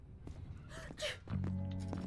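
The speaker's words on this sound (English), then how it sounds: "I sneezed." A game character in the Quarantine Zone video game sneezes once, a short sharp burst near the middle, followed by a steady tonal hum from the game.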